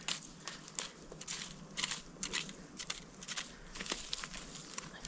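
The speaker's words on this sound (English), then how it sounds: "I can still hear them crackling. Yeah, they're still crackling." Burning campfire logs crackle and pop steadily outdoors, small irregular snaps over a soft hissing bed, fairly quiet and close with no talking.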